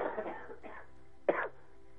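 A few short, close coughs, a pair of rough bursts followed by one sharper cough, with no speech around them.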